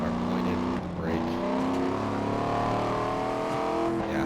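ARCA race car in NASCAR 25 at Lime Rock accelerating out of a corner, a loud steady engine drone rising in pitch with a brief dip at a gear change, under talk.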